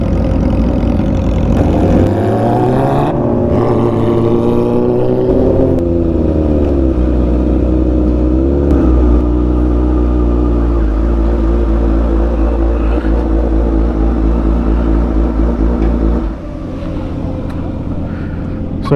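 A motorcycle with a loud, unmuffled-sounding exhaust rumbles close by on a group ride, its deep drone rising and falling with revs and running throughout, with some voices faintly underneath.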